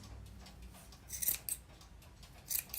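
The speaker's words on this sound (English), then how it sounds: "you're just going to take your scissors" Scissors snip through yarn loops for a pom-pom: a few quick, close, crisp cuts spaced irregularly over a quiet background.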